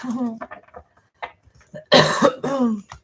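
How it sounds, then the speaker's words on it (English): A person coughs a few times in a loud, harsh burst between stretches of speech, close to the microphone. "Don't mind my coughing."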